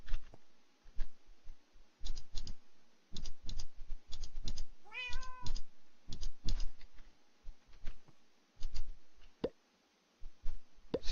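One short meow from a Minecraft cat in the TPPI modpack rises over a steady patter of clicks, pops and plopping game sounds that continue throughout.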